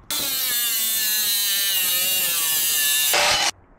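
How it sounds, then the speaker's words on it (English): Power saw cutting flat bar steel into pieces for a van seat installation, a loud continuous high-pitched whine lasting about three seconds, rising briefly in pitch and intensity just before it stops abruptly. "Now cut your flat bar steel into four pieces."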